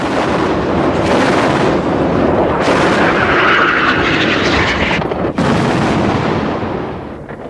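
Fighter bombers attack during the 1982 Lebanon War. Loud, continuous jet roar mixes with heavy blasts and rumbling impacts for several seconds, then fades slightly at the end.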